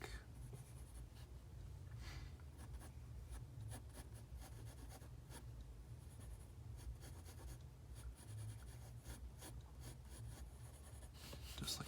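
A pencil sketches on paper for a still life drawing, a continuous soft scratchy scribbling with rapid short strokes, close and quiet, with no talking.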